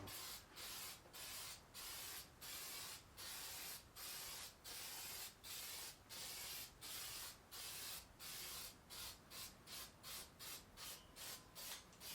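A spray can hisses in a steady rhythm of short, loud bursts onto an eight-string kit guitar, each pause brief, continuing back to back without any talking.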